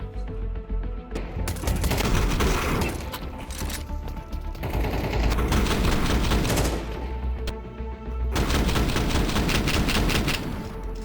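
Pistol gunfire in Counter-Strike, dense bursts of sharp shots in several loud volleys separated by brief lulls, with no talk over them.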